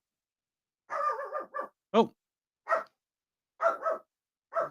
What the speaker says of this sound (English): the dog's taking exception to this. Someone's walked past.